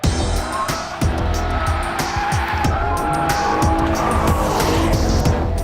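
Car sliding on a test track during a safety demonstration, with loud sustained tire squeal and skidding over a droning engine, scrubbing and chirping continuously for several seconds close by.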